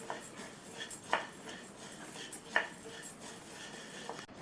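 Roasted gram (pottukadalai) being dry-roasted in a pan over a medium flame and stirred, giving a few quiet scrapes and clinks of the spatula against the metal, with no talking.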